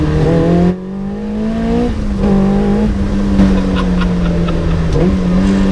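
A Caterham 420R sports car engine drones loudly and steadily, its pitch rising and dipping slightly as the throttle is worked, with a few sharp crackles and pops near the end.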